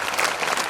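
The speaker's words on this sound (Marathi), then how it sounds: "त्यांच्यासाठी एकदा जोरदार टाळ्या होत्या" A short, dense burst of audience applause at a school annual function, with many hands clapping steadily and evenly throughout.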